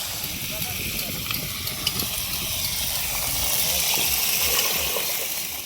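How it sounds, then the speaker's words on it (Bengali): Vegetables frying in a pan for khichuri make a steady, loud, close sizzling hiss that swells slightly in the middle and holds throughout without pause. "এবার খিচুড়ির জন্য সমস্ত সবজিগুলো আমরা ভেজে নেব"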